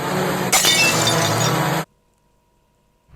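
A loud, close crash of breaking porcelain with clinking shards, then an abrupt cut to near silence.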